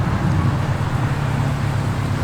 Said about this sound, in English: got a couple of Subaru Imprezas coming in as well.